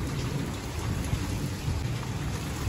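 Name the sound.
heavy rain with thunder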